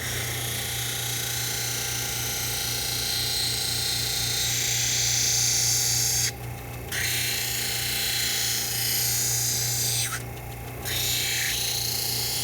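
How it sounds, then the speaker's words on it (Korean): An eyeglass lens being ground on one side, tilted against the wheel, in an optical lab: a loud, continuous whirring grind with a steady low hum, briefly dipping twice as the lens is lifted, with no voices. "한쪽으로 기울여서 이렇게 한쪽 면을 먼저 갈고요"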